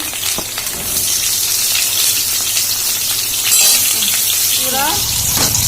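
Pieces of green banana fry in mustard oil with a loud, rushing, water-like sizzle that swells slightly midway, heard up close while a voice murmurs briefly near the end.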